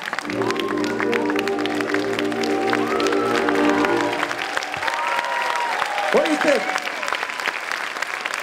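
A high school holiday concert audience bursts into applause and cheering as the music winds down, with the dense clapping continuing steadily and loudly on its own after the instruments stop.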